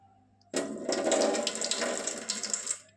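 Water is poured off soaked moong dal for vada, a steady gushing splash that starts abruptly and runs loud and continuous for about two seconds before tapering off.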